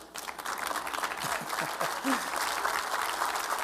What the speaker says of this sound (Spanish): Nada más una persona aplaudió.